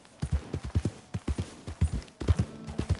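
Horse hooves clip-clop in a PS4 video game, a steady trotting rhythm of sharp, close hoofbeats in quick pairs, briefly pausing before resuming, with no talk over them.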